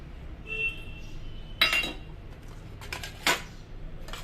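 A spoon clinks against a metal pot or dish while chili powder is added for a vegetable biryani and chicken gravy, giving a few separate near clinks and scrapes with quiet kitchen background between them.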